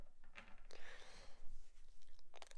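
Someone chews a snack close to the microphone, a series of soft crunches and mouth sounds with irregular bites, fairly quiet with no talk.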